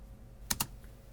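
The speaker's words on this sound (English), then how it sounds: "simply by pressing the space bar on your" A computer keyboard's space bar is pressed twice in quick succession, two crisp, close clicks over a faint steady room hiss.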